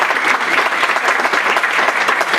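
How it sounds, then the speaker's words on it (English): Loud, steady applause from a room full of people at a company gathering, dense continuous clapping throughout with no pause. "let's give a round of applause for Eddie Freeze"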